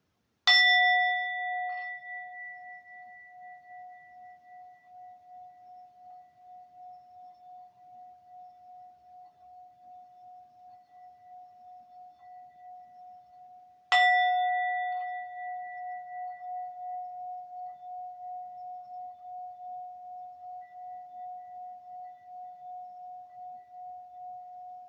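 A sound-healing bowl is struck twice, about fourteen seconds apart, and each strike rings out in a clear, pure, sustained tone that pulses gently as it slowly fades, with no voices.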